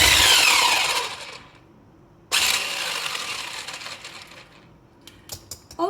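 An electric whisk whirs loudly through a tiramisu mascarpone mixture, starting and stopping, with a pause before it resumes and a few sharp clicks near the end.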